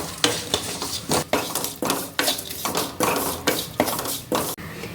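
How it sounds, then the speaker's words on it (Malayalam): Rapid, rhythmic sizzling and scraping of chili powder frying in oil for a red snapper curry, a spoon stirring and clinking against the pan about twice per second, close up. "ഇനി നമുക്കിത് ചെറുക മൂപ്പിച്ചെടുക്കണേ"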